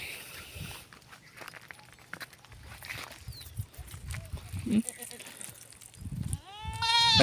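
A village-bred goat newly bought at market bleats near the end with a clear, wavering cry, following footsteps, shuffling and someone talking over quiet farmyard background.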